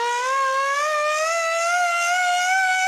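A siren sound effect plays on a poker broadcast, a single steady wailing tone slowly rising in pitch, loud and alone with no talk.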